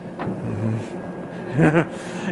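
A car engine rumbles low and steady as the vehicle parks in a film scene, with a brief voice breaking through midway.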